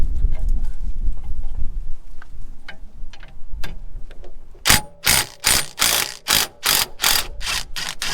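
Rapid ratchet wrench clicks break loose and spin off a 17 mm bolt at the bottom of a Skyline R34 coilover. Quiet fumbling comes first, then loud, close bursts of ratcheting repeat in a steady rhythm.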